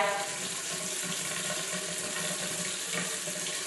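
A bathroom sink faucet runs in a steady, close, loud stream of water splashing into the basin while hands are rinsed, continuing evenly without pause.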